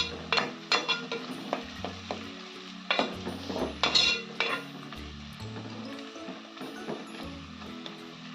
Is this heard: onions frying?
yes